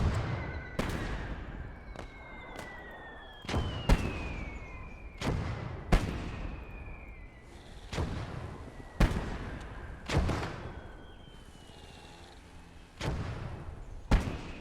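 Gunfire and heavy shots crack out in the World War II game Their Finest Hour. About a dozen separate loud bangs come at irregular intervals, each trailing off in a rumbling echo.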